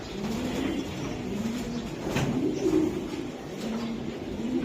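Giribaz high-flying racing pigeons cooing close by, repeated throaty rolling coos rising and falling over a steady background hum.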